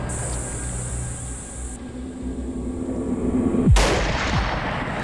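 Single loud rifle gunshot fired during a lion hunt in the bush, a sharp close crack followed by a brief rolling echo over steady background hum.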